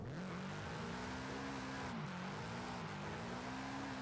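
2022 Subaru BRZ in a racing video game accelerates hard from a standstill, its engine note climbing through gear changes in a loud, continuous drone with no talk.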